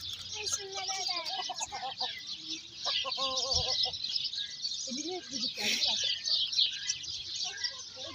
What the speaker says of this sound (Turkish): Campine Brakel tavuğu.